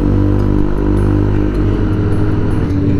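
A Kawasaki Ninja 1000 inline-four motorcycle engine with an Exos X6 exhaust runs close and loud, a deep, full, steady drone with strong low harmonics and slight pitch shifts as it revs.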